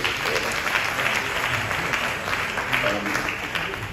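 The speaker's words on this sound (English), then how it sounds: "Please, let's give all the women a round of applause." Audience at a women's conference in Accra applauding, a full continuous roar of clapping throughout, with voices mixed into the crowd noise.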